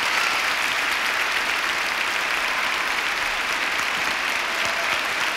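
Sustained, dense audience applause welcoming performers onstage at a tribute concert, steady and loud throughout with no talk over it.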